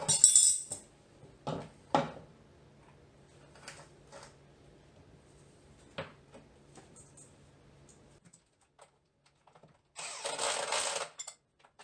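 A ratchet wrench clicks in short bursts while two bolts go into a new control arm on an Acura TL's subframe, with quiet metallic clinks between the bursts and a longer, louder run of rapid ratcheting near the end.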